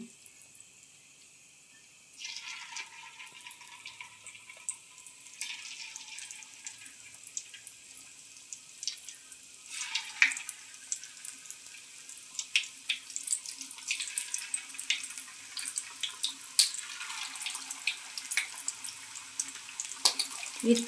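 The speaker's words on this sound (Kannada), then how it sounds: "ಆಮೇಲೆ ಎಣ್ಣೆ ಕಾದಾದ ನಂತರ ಹಿಂಗೆ ಬೋಂಡು ಟೈಪೇ ಬಿಡಿ." Onion manchurian fritters, made from a batter with bun mixed in, are dropped into hot oil, and a soft frying hiss builds with scattered crackles and bubbling, faint and steady with no one talking.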